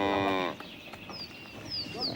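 Cattle on the Kenyan savannah with Maasai herders, one clear low moo at the start and then open outdoor ambience with faint bird calls.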